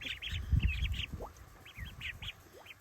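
High, rapid peeping from small ducklings near a kiddie pool comes in quick bursts, close by, with soft shuffling and low thumps underneath.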